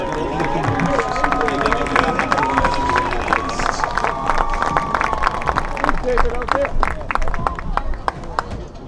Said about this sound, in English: one final round of applause for our football seniors